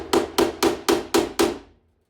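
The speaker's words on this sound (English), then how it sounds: "Grab the screwdriver, twist it, and hit it." A hammer strikes a screwdriver set against a stuck bolt on a classic Vauxhall Victor FE under restoration, giving six evenly spaced, sharp metallic blows close to the listener before the sound stops.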